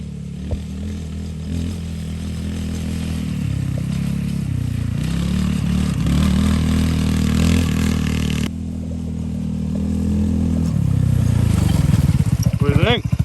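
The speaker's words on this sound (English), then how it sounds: "He's just going full speed and yanks the wheel to the left and calls it a drift." A Polaris Ace 150 youth side-by-side runs at full throttle and skids through a hard left turn, a steady engine drone with rattling and scraping that swells near the end while people talk over it.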